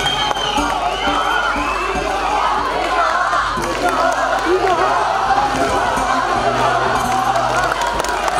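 A concert audience cheers and shouts in a large venue, a steady loud crowd roar with whoops and chatter throughout, and a voice speaking over it.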